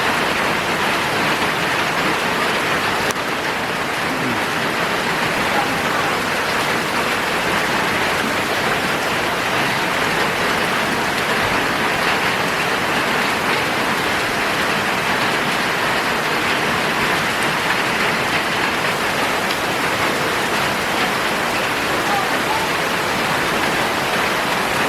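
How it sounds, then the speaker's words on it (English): Heavy rain pours down in a Thai forest near waterfalls as a loud, dense, unbroken hiss that fills the whole stretch, with no voices. "it's raining really hard"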